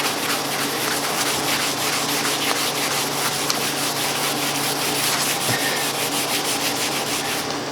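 Hand sanding wears the old finish off a wooden fern stand in an American Empire style: a steady, close, raspy rubbing that continues without a break and with no talk.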